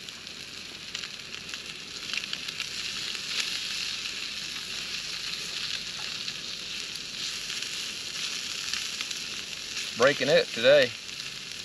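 Fish frying in a hot skillet outdoors beside a lake, a steady soft sizzle running under faint background noise, with a brief spoken remark near the end.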